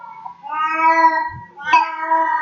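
A cat meows twice nearby, two clear drawn-out calls in an otherwise quiet indoor room.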